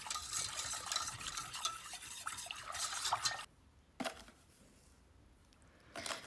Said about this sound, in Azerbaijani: Gördüyünüz kimi bunu dayanmadan qarışdırırıq